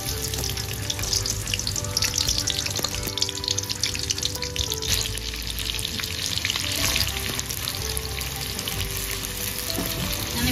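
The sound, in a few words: chopped onions frying in hot oil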